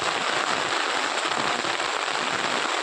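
Heavy afternoon rain pours steadily over farm fields in Banaskantha, a dense, loud, unbroken hiss with no pauses.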